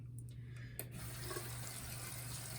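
Tap water runs into a sink while a makeup sponge is rinsed out, a faint steady trickle with a couple of brief splashy bursts early on.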